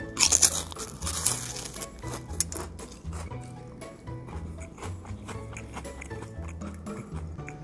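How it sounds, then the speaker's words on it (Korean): Crispy deep-fried dried filefish snack bitten and chewed close to the mic, loud crunches at the start followed by a steady run of crackling mastication, no talk. "한번 씹어 먹어 볼게요."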